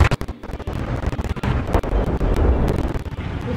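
Tank cannon fire in the Roblox game Tankery on a Belgium capture-the-zone map, a series of sharp booming blasts and rumbling bursts repeating close and loud over a few seconds.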